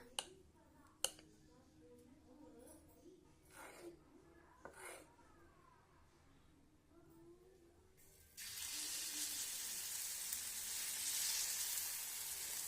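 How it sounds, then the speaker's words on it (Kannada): Dosa batter hits oil on a hot griddle, and a loud, even sizzle bursts in partway through. Before that come quiet handling clicks and low talking. "ಸ್ವಲ್ಪ ಎಣ್ಣೆ ಹಾಕೋಣ. ಎಣ್ಣೆ ಹಾಕಿ ದೋಸೆ ಹಾಕೋಣ."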